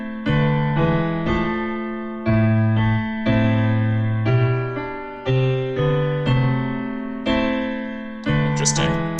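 A melody played alongside app-generated harmony notes, a series of sustained synthesized tones with stacked chords changing every second or so, clear and steady, with no talk over it.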